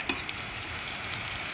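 Chicken sizzles in a hot pan at home, a steady dense crackle that fills the whole moment, close and moderately loud, with one or two small stir knocks and no talking.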